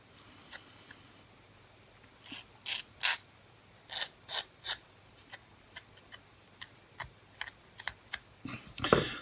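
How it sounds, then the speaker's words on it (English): Small flat file trimming a Majorette die-cast VW Golf toy car, quick irregular scraping rasps in short bursts, close and fairly quiet against a silent background. "I'll just get a little flat file. Just to trim that off."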